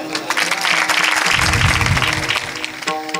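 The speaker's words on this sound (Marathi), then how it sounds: "टाळ्या वाजवा, पैसे नाही वाजवा एकदा." Audience at a comic kirtan clapping together, a dense burst of applause that swells and then fades near the end.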